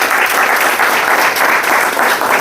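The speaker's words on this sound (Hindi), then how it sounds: "उनके लिए जोरदार ताली होनी चाहिए" Sustained audience applause at a business opportunity presentation, a dense, even wash of many hands clapping close and loud throughout, with no voices over it.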